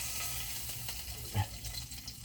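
Sausages fry in a pan with a soft, steady sizzle and crackle, quiet and close, with one brief clunk partway through.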